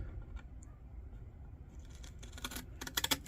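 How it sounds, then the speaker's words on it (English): Scissors cut material during the restoration of an antique folding candle lantern. Faint snips grow into a few sharp close-up cuts toward the end against a quiet background. "Hope I'm going to be able to cut that with scissors"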